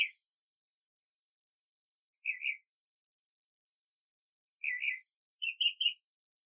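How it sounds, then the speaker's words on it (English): A bird calls outdoors in three short bursts of chirping separated by long silences: a single call, then a pair, then a quick cluster of three, fairly faint and clear with no other sound. "You hear that bird?"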